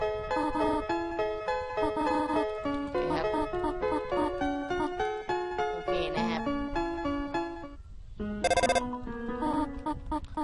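A cheerful chiptune-style phone ring from the video game Undertale, a bright melodic electronic pattern repeating steadily and loudly for several seconds, with a short pause and a higher burst near the end.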